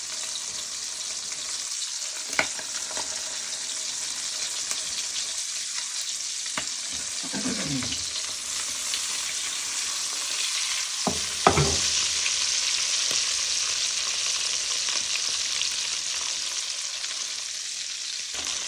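Butterfly shrimp sizzle steadily in hot oil and butter, a continuous frying hiss with a few sharp spatters and scraping stirs around the middle, no voices.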